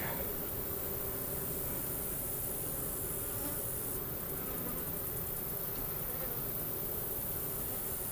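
A steady, dense hum of many honeybees buzzing together at an opened hive, constant and close, with no voices.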